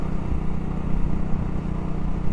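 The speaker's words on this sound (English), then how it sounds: "that exhaust noise is really good." Steady, close exhaust rumble from a BSA 650 Goldstar retro motorcycle being ridden on a cool December day, a continuous low drone with no talk over it.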